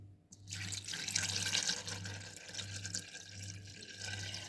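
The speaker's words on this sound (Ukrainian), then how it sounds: "поставила сюди баночки і наливаю воду" Water pours steadily into a pressure cooker holding jars, a continuous close splashing stream, with a low rhythmic hum pulsing underneath.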